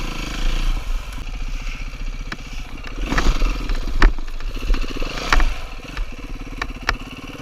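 A dirt bike engine idles and revs unevenly through a slow pivot turn, a close, rough chugging with clattering bursts and small throttle blips.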